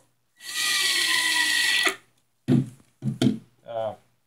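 A power drill drives a 1.5-inch screw into Garnica plywood with a loud, steady whirring burst lasting over a second, then stops abruptly; a person speaks briefly afterward.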